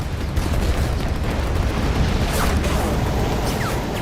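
Close gunfire and grenade blasts from a Second World War beach landing on an old pier form a continuous, heavy rumble of battle noise, with sharp cracks and booms layered over a dense, loud background.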